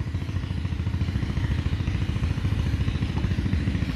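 A small engine on a shallow-well pump machine running close by, a loud low chugging putter with a fast regular rhythm and no break.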